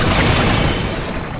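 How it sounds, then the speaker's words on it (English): Forerunner light rifle shots in Halo 4 hit as a loud, close, booming energy blast that fills the moment and fades slightly toward the end. "No, this is actually a light rifle."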